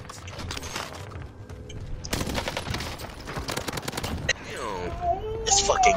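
Bursts of automatic gunfire from a Call of Duty: Warzone match on Rebirth Island, rapid volleys and scattered shots rattling through the scene while players talk over the shooting.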